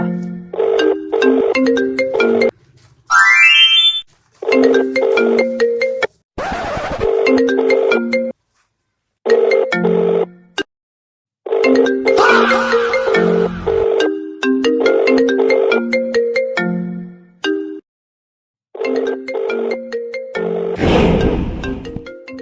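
A mobile phone rings with an incoming call, its melodic electronic ringtone repeating in loud bursts with brief gaps over about twenty seconds, close and clear with no talking.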